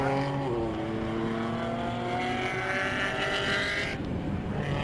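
Race cars including a Ginetta G40 lapping Snetterton circuit through the right-hand Coram corner in a club enduro race: loud, continuous engine drone with shifting pitch as cars accelerate and pass, nearby and dense.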